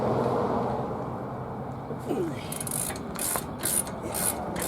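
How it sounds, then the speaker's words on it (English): A heavy ratcheting breaker bar loosens a bolt during front wheel bearing removal on a 2013 Dodge Charger 5.7 HEMI, giving a few quick ratchet clicks over a noisy garage background. "Now I'm going to change from this big heavy ratcheting breaker to regular ratchet"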